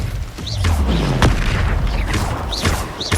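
Spell blasts in Hogwarts Legacy, with booming fiery bursts and whooshing magical impacts in quick succession over a dense combat background.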